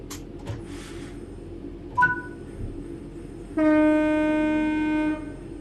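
A simulated train in Train Sim World 4 sounds a brief two-tone horn, then a long steady horn blast holds for about a second and a half over low engine rumble, with a few clanks before it.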